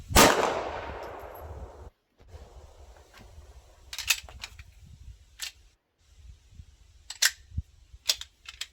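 A Laugo Arms Alien pistol fires a single shot: one sharp, loud report right at the start with a ringing decay, followed by a few faint clicks and handling sounds.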